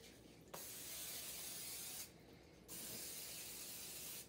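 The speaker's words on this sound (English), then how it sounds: "I'm just going to grease some cookie trays right now" Short bursts of aerosol cooking spray hiss onto cookie trays for soft pretzels, two close, steady sprays separated by a brief pause, quiet and without talk.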